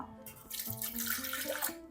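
Running water from a tap splashes steadily into a container, a continuous gurgling pour lasting a couple of seconds.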